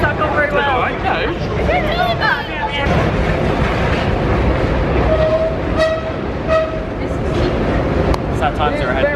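Double-decker train pulling into a Paris metro platform, a broad rumbling roar with squealing brake tones and a brief horn-like toot, close and loud amid station crowd babble and people talking.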